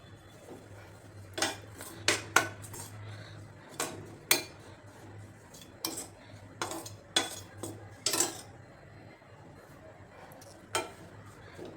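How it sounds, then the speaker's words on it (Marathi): A spoon clinks and scrapes against a pan as wheat semolina roasts, in intermittent sharp taps over a low steady hum, with faint talk in the background. "आपला गव्हाचा रवा वापरला तरी चालेल छान खमंग भाजून घ्यायचे"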